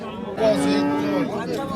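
A cow moos once at a cattle market, a long low bellow close by, over a steady murmur of background noise.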